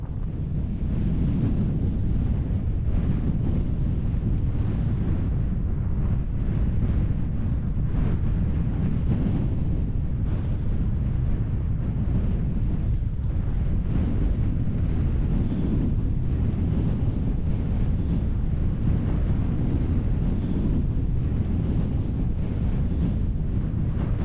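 Steady, loud wind buffeting a tent and the microphone on a cold winter hillside in the Lake District above Derwentwater, a continuous low roar with gusty fluctuations and no talking.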